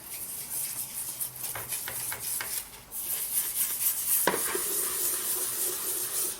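Steady, close-up bristly scrubbing with a toothbrush on plastic seat parts from a 1997 Firebird, a continuous scratchy rubbing that pauses briefly and then resumes more intensely.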